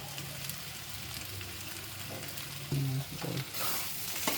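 Fried paneer sizzles in masala with turmeric and salt in a pan, a close, steady crackle of frying with a few sharp clinks and scrapes of a spoon stirring toward the end.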